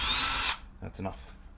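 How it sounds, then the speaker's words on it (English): A power drill running at low speed whirs steadily for about half a second while boring into wood, then cuts off, followed by a brief bit of speech. "I've got the drill on the low speed as well"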